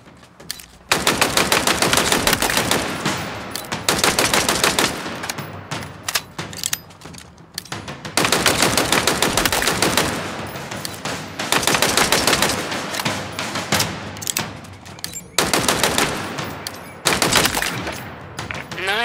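Bursts of rapid automatic gunfire from Halo Infinite target practice, loud and close, coming in several long sustained volleys separated by short pauses.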